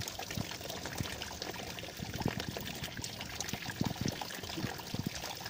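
Water poured into a car engine radiator during an antifreeze change and radiator flush, a faint, uneven gurgling trickle with splashy bursts, close by and with no talk.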